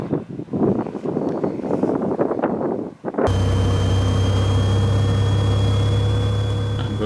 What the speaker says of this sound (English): when he takes off, after a long takeoff roll, he turns toward rising terrain